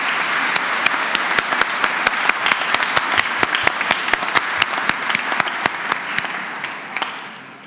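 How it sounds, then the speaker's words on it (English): A graduation ceremony audience in Chelmsford breaks into sustained, loud applause, a dense wash of many hands with sharp individual claps standing out regularly throughout before it begins to thin at the end. "you should applaud yourselves in a resounding fashion."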